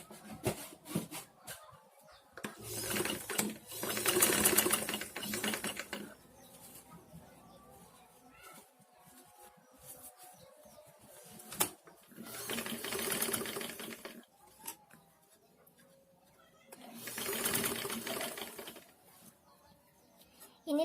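A sewing machine stitches a sleeve armhole in three separate bursts of rapid, steady needle clatter, each a few seconds long, with quiet gaps between them where faint handling sounds are heard.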